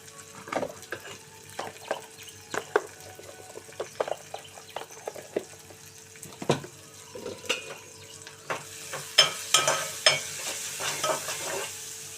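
Onions fry with salt in a pan for an okra tomato curry, steady sizzling punctuated by frequent scraping stirs and clinks of the spatula, growing louder toward the end, close and without speech.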